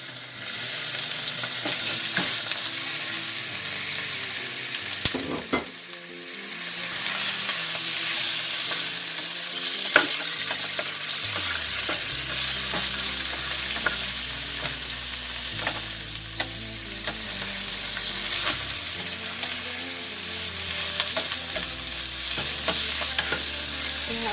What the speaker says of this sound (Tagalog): ilalagay natin yung chicken. Isasangkot siya natin.